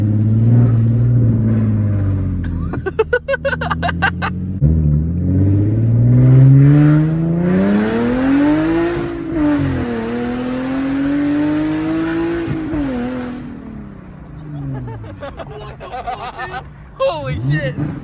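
An Infiniti G37 fitted with a Tomei Expreme Ti exhaust and test pipes revs repeatedly, its loud raspy engine note rising and falling in long sweeps with sharp crackles, while people talk excitedly over it.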